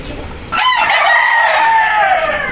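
A gamefowl rooster at a game farm crows once, loud and close, a long wavering call that trails off, with faint clucking from other chickens around it.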